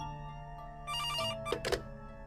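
A telephone rings in the horror video game Midnight Scenes: From the Woods, a steady electronic ring with two brighter bursts near the end, clear and close with no talk over it.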